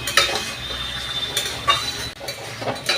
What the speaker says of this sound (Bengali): চিকেনটাকে আমি কষিয়ে কষিয়ে একদম লাল করে ফেলেছি, কিন্তু এতে বেশি মশলা নেই।